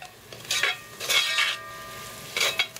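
Spoon scraping and clanking against a soup pot while stirring vegetables and garlic, three distinct bursts of metallic scraping separated by quiet simmering, close and clear with no talk.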